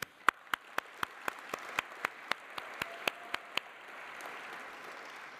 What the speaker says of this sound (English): please join me in giving a big round of applause for Wendy and their team